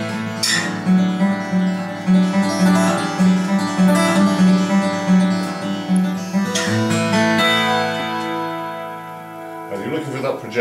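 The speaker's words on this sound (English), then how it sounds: "where you're doing a sort of rippling pick," Acoustic signature guitar plays a rippling fingerpicked pattern from an old folk song, steady plucked notes ringing close and clear, with a brief pause and a chord change before the pattern resumes.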